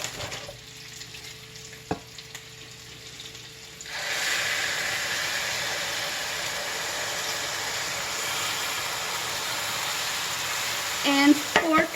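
Seasonings and tomatoes dropped into a hot skillet of beef and bacon for tacos burst into a loud, steady sizzle and hiss after a quiet start, with faint stirring clatter near the end.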